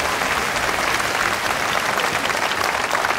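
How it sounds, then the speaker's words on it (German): Dense, steady applause from a theatre audience after a Hänsel und Gretel stage show at Efteling, a continuous close wash of clapping hands that holds level without pause. "Geben Sie noch einen enormen Applaus"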